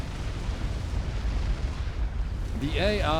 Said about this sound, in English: Mr. Zeta have been sniped by the T3 artillery from the other side of the map